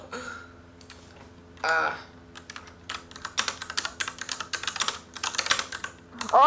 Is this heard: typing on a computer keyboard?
yes